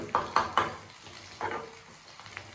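Ingredients roasting in a hot pan over low heat for Andhra Kadapa garlic powder, with a few soft scraping stirs and a quiet sizzle in a calm kitchen, faint and close.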